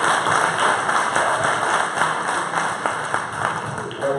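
An audience at a design-thinking talk applauds, a dense, continuous patter of many hands clapping at a steady level for several seconds.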